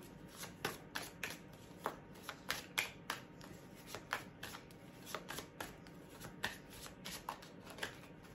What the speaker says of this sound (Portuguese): Deixa eu pegar um baralho aqui.